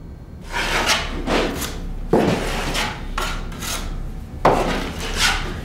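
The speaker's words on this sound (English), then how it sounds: "I just lightly go over that, leaving on a little more joint compound" A taping knife scrapes joint compound smoothly along a drywall seam in repeated strokes, each a soft, close rasping sweep with a light knock at the start of some passes.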